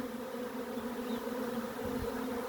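A honey bee swarm settling on branches around a hung frame makes a dense, steady buzzing drone, close and continuous, with no speech.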